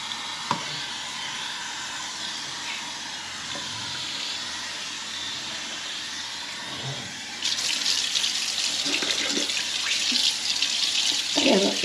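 Tap water runs steadily into a kitchen sink as it is rinsed clean, a continuous close splashing hiss that grows louder and brighter partway through as the flow strikes the basin harder, with no talking.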